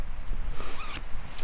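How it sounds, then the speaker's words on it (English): Zipper being pulled on an insulated jacket, a close, loud ripping zip with a couple of short pulls over a second and a half. "the zippers go both ways"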